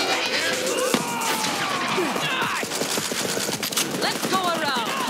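Rapid gunfire bursts in the Borderlands 3 video game crackle continuously, with sharp shots and whooshing effects in the game mix, while a player's voice is heard over the action.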